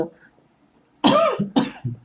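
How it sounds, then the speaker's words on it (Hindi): A man coughs near the microphone, two harsh bursts in quick succession after a quiet pause, followed by a short throaty trailing cough. "सॉरी दोस्तों, हमको थोड़ा खांसी आ रही है"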